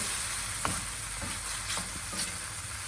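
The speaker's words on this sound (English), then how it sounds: "Now I'm gonna mix everything." Pasta, peppers and anchovies being stirred in a hot pan, a steady close sizzle with a few soft scraping strokes of the utensil spaced through it.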